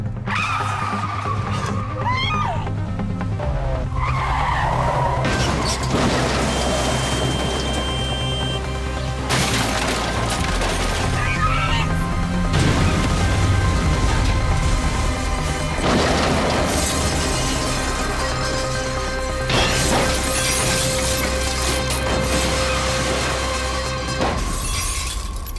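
A car skids and crashes in a dramatic soap opera scene, with loud shattering and smashing over a continuous roar of traffic and mechanical noise, and no talk.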